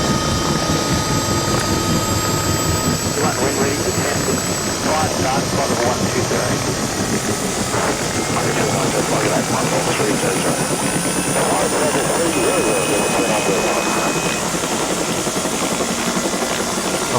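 A Bell 206 helicopter's turbine engine warms up in the X-Plane 11 flight simulator, a steady loud whine and rotor drone holding throughout while someone talks over it.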